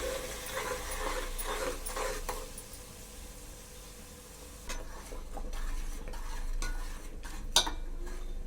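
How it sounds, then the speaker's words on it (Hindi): Ginger garlic masala paste for fish curry roasting in a pan, a steady close sizzle with repeated scraping stirs and a sharp clink of a utensil near the end. "अब इस मसाले को अच्छे से भुनेंगे।"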